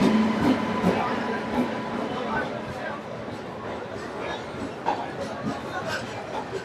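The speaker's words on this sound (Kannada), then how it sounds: "ಟ್ರೈನ್ ಬರ್ತಾ ಇದೆ ನೋಡಿ, ಕರೆಕ್ಟ್ ಟೈಮ್ಗೆ." The Gol Gumbaz express rolls into a busy railway station with a loud rumbling, clattering approach that slowly settles, while people chatter and talk nearby on the platform.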